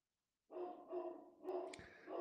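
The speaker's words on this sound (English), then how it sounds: "Sorry about my dog barking." A household dog barks at the door indoors, a few rough, muffled barks with breathy edges, moderately close but fairly quiet, with no talking over it.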